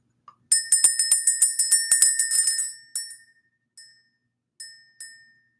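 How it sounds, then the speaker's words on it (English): A small hand bell is shaken in a quick run of bright, ringing dings that tail off, followed by a few single strikes spaced out and fading in a quiet room. "Let's just go ahead and ring the bell, clear the energy"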